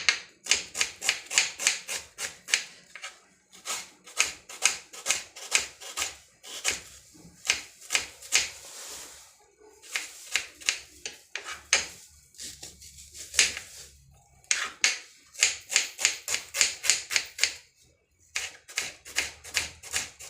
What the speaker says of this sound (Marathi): आता मी उभा आडवा बारीक चिरून घेते